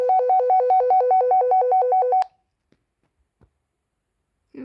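Telephone ringback tone pulsing in a rapid repeating two-tone pattern for about two seconds, then cutting off to near silence with faint clicks, heard over a walkie-talkie channel.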